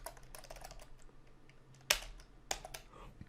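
Typing on a computer keyboard during Unity programming work, a close run of light key clicks with a few sharper, louder strikes, heard alone without talk.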